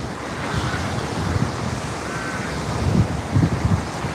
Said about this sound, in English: Oh, this wind. It's windy.